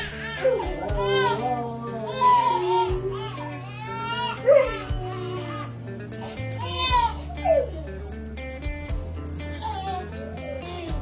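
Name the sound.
baby crying loudly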